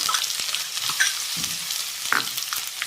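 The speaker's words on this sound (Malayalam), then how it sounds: "ഇനി അതിലേക്ക് 100 ഗ്രാം ഇഞ്ചി അരിഞ്ഞത്" Chopped ginger sizzles and fries in hot oil with mustard seeds and fenugreek while being stirred for a Kerala-style gooseberry pickle, giving a steady close crackle with occasional scraping of the spoon.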